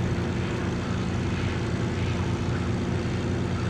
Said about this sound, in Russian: У вас самолет, видишь?